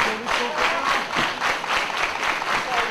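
A wrestling crowd at a singles match claps and cheers throughout, loud, dense, continuous applause with rising shouts and no clear talk over it.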